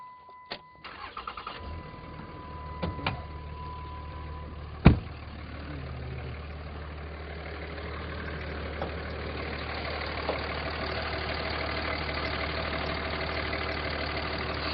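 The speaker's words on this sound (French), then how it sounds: "On va démarrer ce moteur-là pour voir si vos voisins vont apprécier" A 2006 Dodge Ram Mega Cab pickup cranks briefly, catches with a sharp bang-like start, then settles into a steady, throaty idle that runs on evenly and close for the rest of the stretch.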